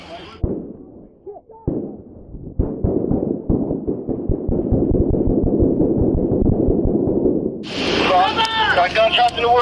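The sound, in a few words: gunshots in the woods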